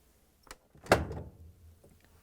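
A Whirlpool dryer door is lifted off its hinge, giving a soft tap followed by a single muffled clunk with a short rattle, quiet and close with no talking.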